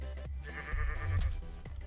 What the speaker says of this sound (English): Why is there a normal sheep here?